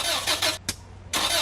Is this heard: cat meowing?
no